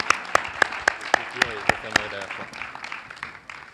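Applause from an audience at a launch event for a collaborative web-documentary platform, sharp scattered claps fading out, with a voice talking over them.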